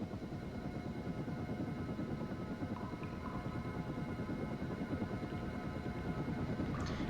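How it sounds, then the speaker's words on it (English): A Tunnel Scout aircraft in the video game Lego Rock Raiders flies swiftly over lava, a steady low whirring rotor hum that holds at an even level throughout, with faint game blips near the end. "Watch as your Tunnel Scout flies swiftly across the lava."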